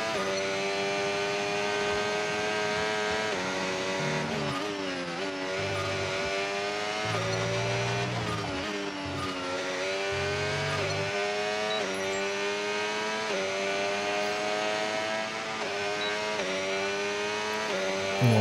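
A race car in an Austrian race-weekend practice session takes a corner, its engine note dropping through downshifts and climbing again under acceleration, loud and continuous with a touch of tyre noise.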